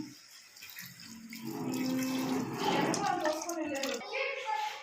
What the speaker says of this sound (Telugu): దానిలో వాటర్ వేసి కలుపుతున్నాం